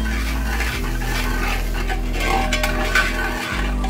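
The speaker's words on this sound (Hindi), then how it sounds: "इसको थोड़ा सौते करूंगा मैं।" Chopped garlic, ginger and green chili with whole coriander seeds sauté in a pan for a soya chap masala, giving a steady close sizzle broken by scraping and clinking utensil sounds, with no talking.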